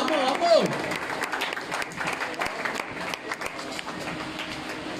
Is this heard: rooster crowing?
no